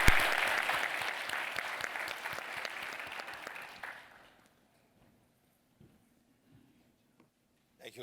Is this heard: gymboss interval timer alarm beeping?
no